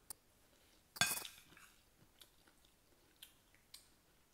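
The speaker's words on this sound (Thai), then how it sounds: "มากินด้วยกันนะคะ" Laab, a Thai minced meat salad, being chewed during a meal, heard as one close crunchy bite followed by a few faint, scattered chewing and utensil clicks in a quiet room.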